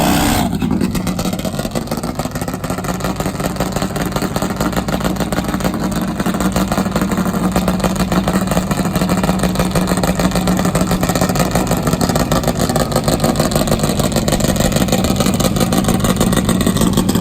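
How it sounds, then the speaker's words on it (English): A top fuel nitro Harley drag racing motorcycle engine rumbles loud and close in a continuous pulsing roar that holds steady for the whole stretch, with no voices. "Let's enjoy the rumbling music of a top fuel Nitro Harley."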